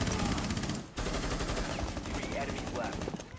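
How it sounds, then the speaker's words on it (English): Rapid automatic gunfire from Rainbow Six Siege rattles in dense, fast bursts, loud and close, with a brief pause before the stream resumes. "That's a pretty rapid fire gun you got there."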